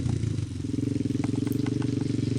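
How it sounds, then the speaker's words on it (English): An ATV quad engine runs close by with a steady, throbbing low putter and rapid regular pulses, fairly loud and heard on its own without speech. "Stop the quad and use only the clutch and the power of the quad to pop a wheelie."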